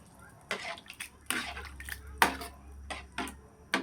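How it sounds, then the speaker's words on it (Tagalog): Spoon stirring gizzard pares sauce in a metal pot, a series of distinct clinks and scrapes against the pot sides at an uneven rhythm, close and fairly quiet, with a low background hum. "At haluin po natin"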